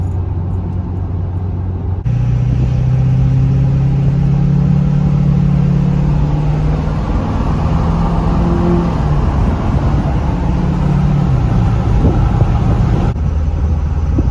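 Ford 6.7 Powerstroke diesel truck with a 5-inch exhaust cruising past outdoors, a loud continuous low drone rising and falling with the engine, heard alone without talk.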